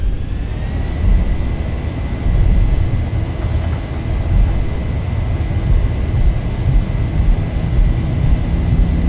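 Airliner engines spool up to takeoff thrust in a flight simulator game with the Zibo Mod aircraft on runway 20 at Jerez; a loud, steady broadband roar with a thin sustained whine holds evenly throughout.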